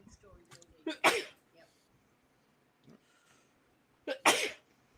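Two sharp, close sneezes, each with a quick intake before the burst, separated by a few seconds of quiet with faint breathing between them.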